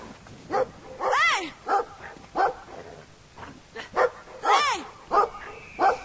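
A dog barks repeatedly in the video game Brothers: A Tale of Two Sons, sharp close barks in a steady rhythm mixed with a couple of longer whining yelps.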